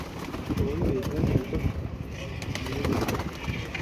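Flying pigeons coo softly nearby amid rustling and shuffling, with a voice murmuring in the background.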